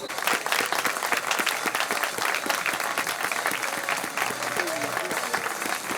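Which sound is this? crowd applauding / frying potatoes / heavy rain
crowd applauding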